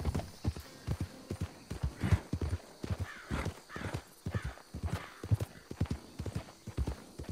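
Rhythmic clip-clop of horse hooves in an Xbox video game trots steadily throughout, evenly paced and fairly close, with faint background ambience.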